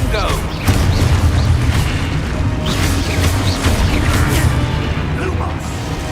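A Confringo fire spell bursts during Hogwarts Legacy gameplay, a loud rumbling blast with a dense roar and crackle that lingers for several seconds, with faint game voices mixed in.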